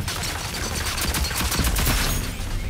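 Dense, continuous gunfire from the Overwatch hero Sigrid fills the scene, loud and close, in a steady sustained stream with no talking.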